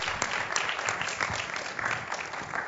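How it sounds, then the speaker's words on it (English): Church congregation clapping steadily throughout, a dense crowd of hands with sharper individual claps poking through, fairly close and sustained. "Somebody better clap for Jesus."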